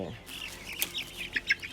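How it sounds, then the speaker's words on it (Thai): Purebred laying hens clucking at a farm, several short close clucks and chirpy calls rising toward the end over a low background hum. "ตรงนี้ก็มีนะครับดูครับไก่ที่เขาเยอะนะครับ"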